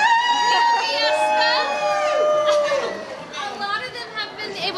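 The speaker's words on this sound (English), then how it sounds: "We've got a great crowd out here." A lively outdoor crowd gathers at a Fiesta medal giveaway at James Avery in Huebner Oaks, with overlapping chatter, high children's voices and shouts close by, loud and busy throughout.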